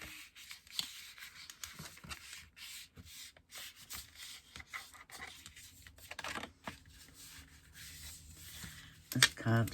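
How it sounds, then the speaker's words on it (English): A folding tool burnishes scored lines on slightly thick card, giving soft, irregular rubbing strokes up close with short pauses between passes and a brief clatter near the end. "Burnish all your lines first."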